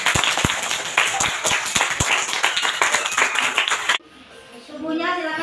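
Schoolchildren in a classroom clap for their classmates, loud and fairly close, with distinct sharp slaps within a ragged burst that stops abruptly; children's voices and talk carry on after the clapping ends.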